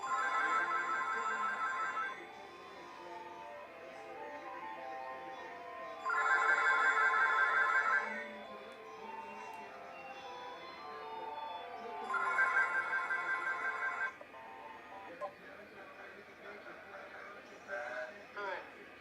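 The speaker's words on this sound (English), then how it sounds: "my fax machine decided to send fax codes to the line" A telephone line gives off a tone pattern like fax signalling from a fax machine: three loud bursts of steady ringing tones spaced evenly apart, separated by quieter stretches with faint voices.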